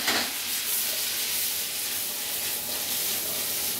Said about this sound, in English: We're going to let that just kind of simmer around a little bit.